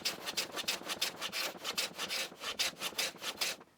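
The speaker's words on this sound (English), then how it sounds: "So you can hear that sound as it's engaging, so you know that you're actually planing right through as you're going" Hand plane pushed over the end of pre-dressed timber, a quick run of about a dozen rhythmic rasping strokes, close and fairly quiet with no voices.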